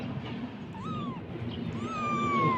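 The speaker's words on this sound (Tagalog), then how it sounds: "Tapos may dalawa pa akong kuting" A kitten gives two thin, high-pitched meows close by, one short and one more drawn out, over a low steady background hum.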